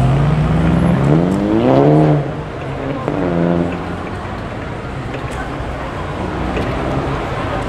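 A VL and a GTI pull away from a Sydney car show at Homebush, one engine revving up through rising gears loudly and close, then fading into a softer distant rumble with faint background noise.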